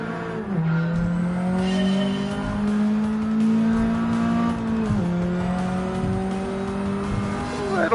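Race car engine in Gran Turismo 7 on the GT7 Spec II update, a loud, steady motor that rises in pitch, drops sharply at a gear shift around midway, then climbs again, with brief tire squeal.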